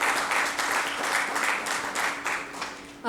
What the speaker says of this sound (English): round of applause for Mr.